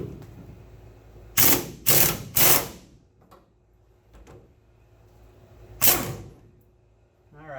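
A ratchet working the last bolt off the sway bar of a 1970 VW Bus, three quick clicking bursts followed by a single later burst, close and sharp amid quiet pauses.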